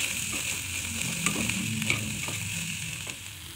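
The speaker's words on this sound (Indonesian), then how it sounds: "oseng-oseng kembali bakso dengan kangkung sampai tercampur merata" Meatballs and water spinach stir-fried in a hot pan, with a steady, dense sizzle and occasional scraping stirs running throughout, close and continuous.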